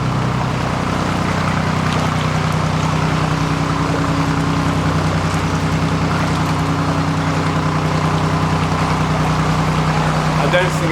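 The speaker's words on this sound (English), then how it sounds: "there's a boat coming down towards me." Narrowboat engine chugging steadily inside a canal tunnel, a close, continuous low throb with hollow echo and a trickle of water running throughout.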